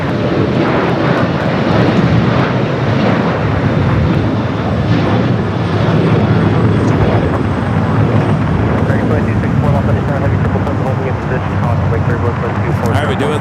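A heavy airliner arrives on runway 25 at Los Angeles International Airport, a loud continuous engine roar with steady broadband rumble, while someone talks over it.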